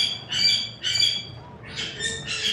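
Parrots give four harsh, raspy squawks in quick succession, two separate calls and then two overlapping ones, loud and close over a low background hum.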